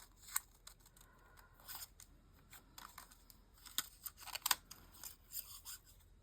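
Scissors snip paper pieces for an art journal page, with quiet, close crisp cuts arriving in irregular bursts and clusters, some quicker runs of snips, set against near silence.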